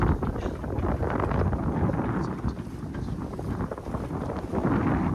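Wind roars steadily across the microphone aboard a Bayfield 29 sailboat on Trinity Bay, Newfoundland, making a loud, constant rumbling buffet with a wash of water moving past the hull underneath.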